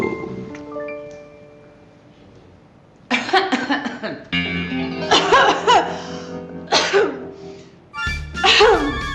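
Several harsh coughs come in bursts after a quiet stretch with faint tones, loud and close, with short pauses between them.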